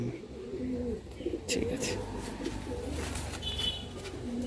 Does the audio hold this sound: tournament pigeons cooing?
yes